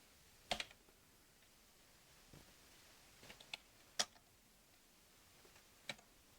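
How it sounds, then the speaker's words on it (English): Keys on a computer keyboard are tapped while entering a Windows 95 setup key, a handful of separate, faint, close clicks spaced irregularly over a quiet room. "Typing a key"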